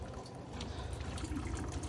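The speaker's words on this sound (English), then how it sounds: "turn it to cold, which is round to the right, and draw some water through." Cold water running from the tap of an AutoTrail Chieftain motorhome after the pump is switched on, a steady, soft trickling flow heard close by with no pauses.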